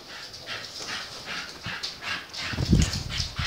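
Several dogs move around nearby with panting, snuffling and soft whimpering, plus scuffling and thumps of paws. A louder close bump comes near the end.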